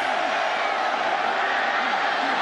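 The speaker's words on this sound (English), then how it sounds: "This crowd has come to life." Football stadium crowd roaring during a college game, a dense loud sustained wall of cheering and shouting, with a commentator's voice faintly under it.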